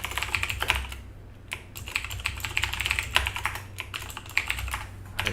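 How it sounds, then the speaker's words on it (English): Rapid, continuous typing on a computer keyboard, close and steady with brief pauses, while someone drafts notes on data-sharing architectures; no one talks. "If you're wondering why I'm typing all this out"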